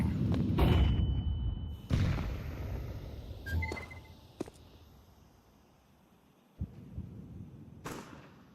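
A flashbang grenade thrown in Counter-Strike 2 gives a couple of sharp thuds and bangs, with a bright burst near the start and short impacts later, amid game noise and no talking.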